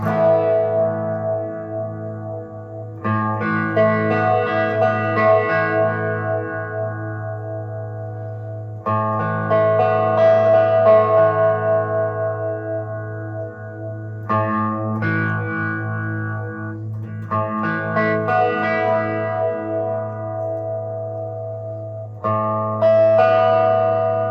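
An electric guitar strums sustained chords through a TC Electronic Helix Phaser pedal, a sweeping, swirling effect, repeated in several separate phrases with brief pauses between.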